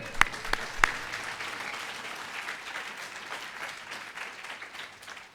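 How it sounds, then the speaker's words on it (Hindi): A church congregation claps during a Hindi and Punjabi sermon, a few sharp individual claps up front giving way to a soft, continuous wash of many hands, fairly quiet and fading slightly toward the end. "ताली बजाएंगे"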